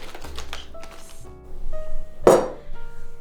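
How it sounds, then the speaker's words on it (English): A metal lid clanks onto a pan of fried rice and the pan is slid aside on the stove, with close clinks and scrapes and one sharp loud clatter. "I'm just going to put a lid on it and just scooch it aside"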